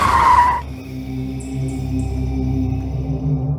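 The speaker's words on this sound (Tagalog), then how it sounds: "Mabilis na natapakan ni Marshall ang preno matapos may biglang tumawid na tao." A car brakes hard for a person suddenly crossing, a short loud tire screech at the start giving way to a steady engine rumble with faint clicking beeps.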